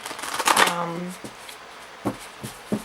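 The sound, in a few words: shuffling Akashic tarot cards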